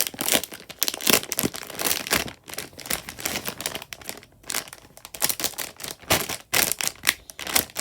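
Plastic packaging of an Ima Tokyo squishy toy crinkles and crackles loudly up close as it is handled, in continuous irregular bursts with brief pauses.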